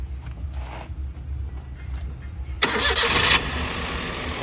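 A 2010 Maruti Alto K10 VXI petrol car with a 1000 cc engine cranks and fires up, a loud sudden start after a quiet stretch, then settles into a steady close idle.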